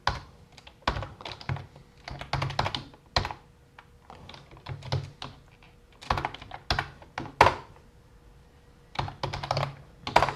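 Someone types Python code on a computer keyboard, producing close, crisp clusters of rapid keystrokes in short bursts separated by brief pauses, with no talking.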